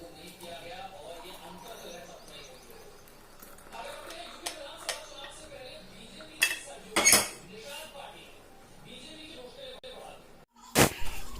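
A tea pan is washed by hand, with scattered metallic clinks and scrubbing clatter that grow louder toward the end, while someone talks throughout.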